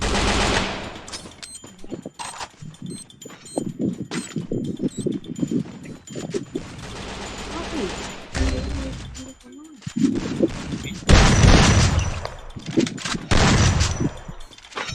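Rapid gunfire in the Free Fire battle royale game, bursts of automatic shots crackling in and out across the stretch, some close and loud, with players talking throughout.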